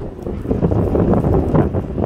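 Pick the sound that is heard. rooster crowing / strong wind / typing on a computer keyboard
strong wind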